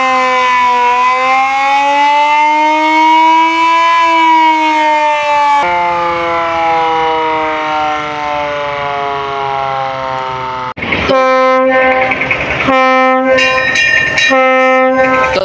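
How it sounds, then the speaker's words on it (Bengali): Prince Sakin passenger launch in Dhaka blasting its loud harmonic horn three times: a long sustained blare, a second long blast, then a broken final burst, close and loud with no talking. "তো 3টা হর্ন দিল,"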